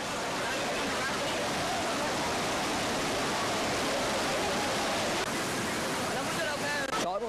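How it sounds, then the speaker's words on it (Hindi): Floodwater rushes all around a stranded jeep in a dense, constant roar that stays loud and close for the whole stretch, with a voice faintly audible near the end. "चारों तरफ पानी का सैलाब है और बीच में फंसी हुई है एक जीप।"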